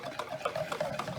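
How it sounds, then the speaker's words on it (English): A spoon stirs JELL-O powder into boiling water, tapping and swishing against the bowl in a quick irregular rhythm, close and moderately loud, with no talking. "So we're just gonna start stirring"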